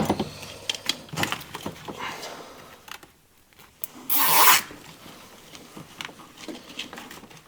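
Zip tie ratcheted tight around a wiring harness while installing an Evolution D5 Plus plug-and-play car sound system. One loud, quick zipping rasp cuts through soft handling rustles and taps.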